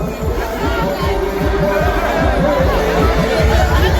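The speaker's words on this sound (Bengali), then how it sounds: "কিন্তু ভিড়টা বন্ধুরা প্রচুর পরিমাণে ভিড় আছে দেখতেই পাচ্ছেন" Dense hubbub of a large crowd at the Haripal fair, a steady wall of overlapping voices and babble with no single speaker standing out, loud and continuous throughout.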